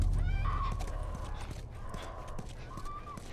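Horse in The Last of Us, whinnying and neighing in a few drawn-out calls over a low rumbling game backdrop, with a soft hoof clop or two nearby.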